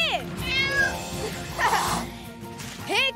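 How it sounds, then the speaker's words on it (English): Cartoon cat meowing in a Thanksgiving cartoon, several rising and falling mews at mid-loudness, one near the start and others near the end, over music and background sound. "Here, kitty, kitty!"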